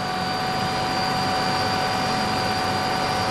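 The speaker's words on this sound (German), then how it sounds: "Das sind schon gewaltige Hubschrauber" A large 2x-scale RC Chinook CH-113 Labrador model helicopter in Canadian Forces markings, powered by 12S batteries with main rotors near 900 rpm, flies with a steady loud whine and constant rotor roar throughout.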